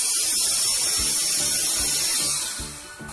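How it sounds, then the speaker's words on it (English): Electric blower switched on by smartphone control, giving a high, constant whirring hiss with faint low knocking beneath, fading slightly at the end. "my blower will turn on"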